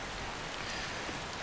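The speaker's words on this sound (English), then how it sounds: "The rain started as soon as we left Whiterun." Steady rain falls outdoors in Skyrim, a soft, even hiss of drops on the ground, faint and without voices.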